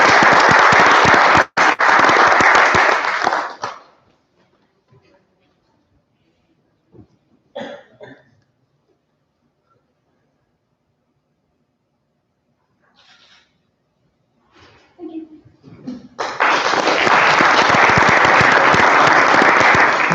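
An audience applauds student athletes honored with a Section 8 award, loud clapping at the start that fades into near silence with a few coughs and shuffles, then another loud burst of applause at the end.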